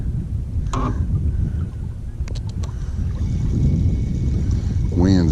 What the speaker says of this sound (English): Wind's blowing really hard.